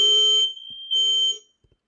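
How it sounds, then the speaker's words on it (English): A fire alarm blares in two loud bursts of steady high electronic tone, separated by a short gap, with faint taps after the second burst. "Is that the fire alarm?"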